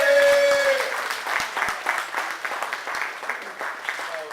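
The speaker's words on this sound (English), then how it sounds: "Give me a round of applause." Audience clapping at a live comedy show in Livonia, Michigan, a brisk patter of many hands that starts strong and gradually thins, fairly close, with a brief whistle-like tone at the start.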